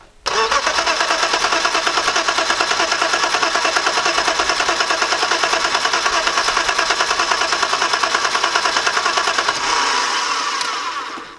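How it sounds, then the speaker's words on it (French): A BMW E36 320i cranks and fires after reassembly, then holds a loud, steady, rapidly pulsing engine note for about ten seconds before easing slightly near the end. "je mets la batterie et on essaye de démarrer"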